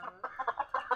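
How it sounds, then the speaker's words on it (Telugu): Two chickens clucking close by, a quick run of short, rhythmic clucks over about a second, fairly soft and with no voices. "అక్కడ 2 కోళ్ళు చూస్తున్నాయి."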